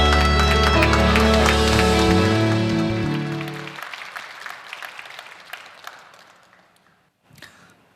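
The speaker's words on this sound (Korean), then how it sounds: "주님께 그 결단을 담아 박수로 영광 돌립니다." Church congregation at a Korean service applauding over the tail of a sustained music chord: loud clapping that thins out over a few seconds and dies to scattered claps, then a brief final burst.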